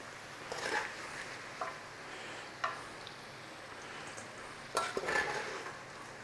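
German fried potatoes (Bratkartoffeln) being stirred in a pan, with a few scraping, clattering bursts over a faint background sizzle.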